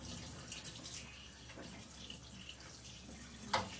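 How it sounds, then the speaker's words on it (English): A paintbrush is rinsed under running tap water after patina painting, giving a steady, soft hiss of flowing water that ends with a brief clatter near the close and no talking. "I'm gonna rinse my brush so I don't ruin my brushes"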